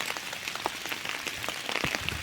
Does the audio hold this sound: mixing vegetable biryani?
no